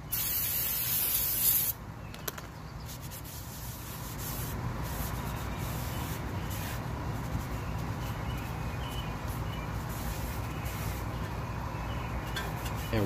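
Brake cleaner sprays hard onto the outer surface of a front brake rotor on a 2011 Camaro SS: a loud close hiss for about two seconds, then a softer steady hiss of spray and wiping carrying on to the end.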